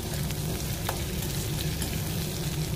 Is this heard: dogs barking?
no